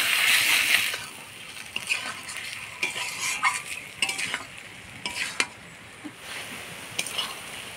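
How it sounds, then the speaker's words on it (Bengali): Pointed gourd and prawn paste are stirred with spices in a hot pan. Close, gentle sizzling runs under repeated scraping strokes of a spatula against the pan. "বাটাটা দিয়ে মশলার সাথে একটু নাড়াচাড়া করে নিব।"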